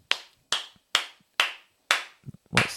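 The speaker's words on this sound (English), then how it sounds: "What are you clapping for?" Podcast hosts clap at the end of an episode, six sharp, close single claps spaced about half a second apart, with a brief murmur of voice near the end.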